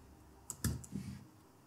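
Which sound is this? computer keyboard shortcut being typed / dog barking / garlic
computer keyboard shortcut being typed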